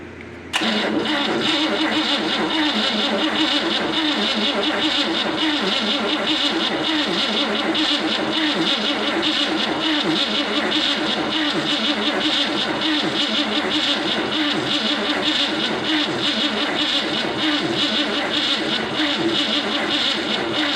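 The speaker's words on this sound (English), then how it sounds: "Let's see if we can get some oil pressure before I throw some gas to it" A 1960 Cadillac 390 V8 cranks over continuously on the starter with the coil unhooked, a loud, steady, rhythmic churning close by that never catches, heard alone.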